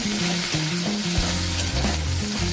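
Chopped tomatoes hit a hot pan and sizzle steadily and loudly, with stirring and a low melodic tone running underneath.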